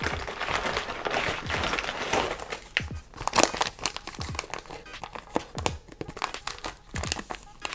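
Plastic packaging of a Canadian IMP ration is torn open and rummaged through, producing continuous close crinkling and crackling with occasional sharp tearing bursts and no voices.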